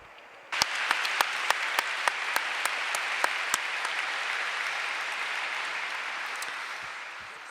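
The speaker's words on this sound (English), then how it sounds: "let's give her a round of applause" An audience breaks into a round of applause for Sister Simona at a talk, starting suddenly and holding as a full, even roar of many hands, with a few louder claps standing out early on.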